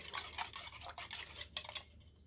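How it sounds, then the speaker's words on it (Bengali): Sugar and yeast being stirred into water with a spoon in a bowl, a close, steady scraping and swishing with a clinking rhythm, alone and without voices. "আমি জলের সাথে চিনি আর ইস্টটাকে আমি ভালোভাবে মিক্সড করে নিলাম"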